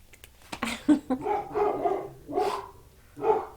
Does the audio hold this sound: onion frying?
no